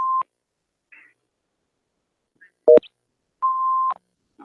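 An answering machine plays its tone: a short clear beep, a click, then a longer steady beep, loud and alone over silence.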